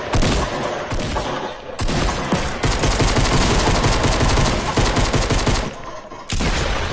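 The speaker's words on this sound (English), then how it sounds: "I'm getting shot." Gunfire in Fortnite: loud, rapid automatic bursts and close shots hammer away almost without pause, broken by two short gaps of near silence.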